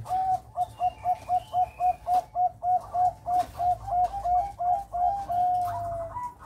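A caged dove calls with a quick, steady run of soft coos, repeated evenly at close range with no talking over it.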